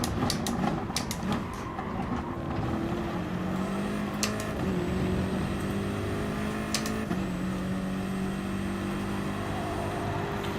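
A BMW race car engine in Gran Turismo Sport drones steadily throughout, its pitch rising and shifting in repeated gear sweeps, with a few sharp transient clicks and no talk.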